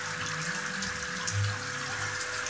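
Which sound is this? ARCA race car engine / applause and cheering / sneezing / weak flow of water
weak flow of water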